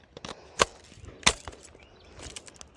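Metallic clacks of an AK pistol's charging handle being racked, two sharp, loud mechanical snaps standing out against quieter handling noise.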